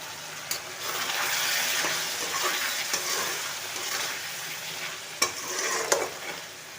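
Potatoes stir-fried in a pan while making an Odia egg curry give a steady sizzle, with scraping stirring strokes and a few sharp clinks from the utensil, all close and even.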